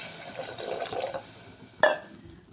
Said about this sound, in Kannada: ಇವಾಗ ಇದಕ್ಕೆ ನೀರು ಸೇರ್ಸೋಣ